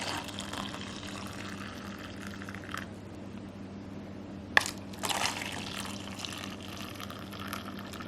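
Liquid poured from a cup, one-handed, into another cup while making a keto drink with melted chocolate; soft trickling and splashing, with a couple of brief louder sloshes midway, close and quiet.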